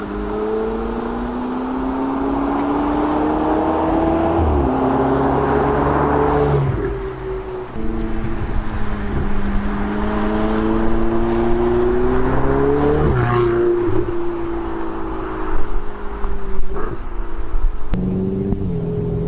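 A Ferrari 488 GTB's turbocharged engine pulls hard through the gears, a loud, steady rising drone broken by quick upshifts, each followed by another climbing pitch, heard close from inside the car with no talking.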